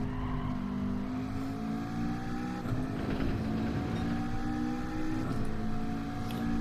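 Sustained engine drone from a Group 3 race car in Gran Turismo 7 lapping the Nürburgring Grand Prix track, its steady harmonic pitch rising and dipping through gear changes, loud and continuous with no talking.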